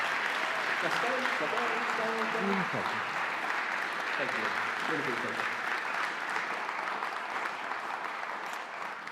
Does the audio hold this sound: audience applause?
yes